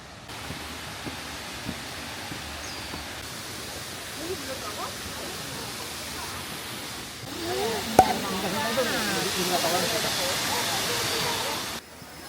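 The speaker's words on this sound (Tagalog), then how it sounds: "Ayan. First waterfall." A waterfall on Jeju island roars as a steady broadband rush that grows louder partway through, with people talking faintly over it.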